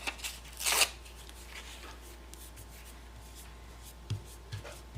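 Bits of scrapbook paper handled and glued down for a mixed media artwork: a brief rustling, shuffling burst near the start, then a few faint soft taps and paper contacts over quiet background.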